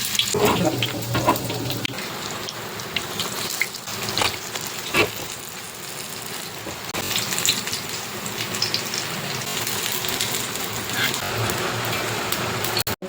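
Water poured into a pan of corn chaat being cooked, a steady close splashing and running trickle that continues for several seconds, with no talk over it.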